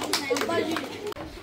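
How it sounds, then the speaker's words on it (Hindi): Students clap for the winner of a classroom game, a short burst of close, brisk applause mixed with children's voices. "विनर जोरदार तालियां"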